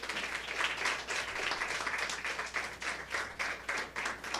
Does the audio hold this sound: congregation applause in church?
yes